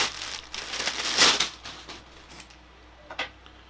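Soft crinkling and rustling of a fabric tripod bag being handled close up, with a brief louder scrunch and a couple of later rustles.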